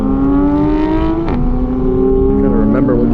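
Manual Porsche 992 GT3 on a race track, its engine revving loud and high inside the car, with a quick upshift dip in pitch partway through before the revs climb again.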